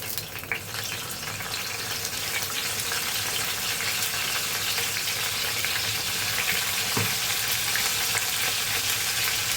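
Fresh washed curry leaves sizzling and spitting in hot oil in a small home kitchen, a steady loud crackle that runs unbroken from start to finish with no talk.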